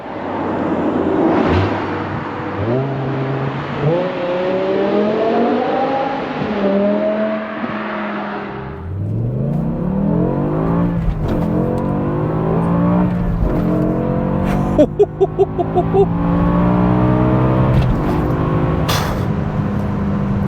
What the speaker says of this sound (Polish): Pokażę wam, jak przełączają się biegi w M5 E60.